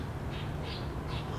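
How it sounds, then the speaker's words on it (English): Birds chirping outdoors at about 6 a.m. on a cloudy morning: faint, scattered high calls over a steady, noisy background hiss, with no voices. "The birds are chirping."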